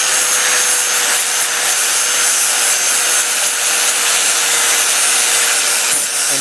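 An angle grinder works across the whole surface of a custom chopper triple tree, a loud, steady, unbroken abrasive whine that holds at the same level throughout, with no voices.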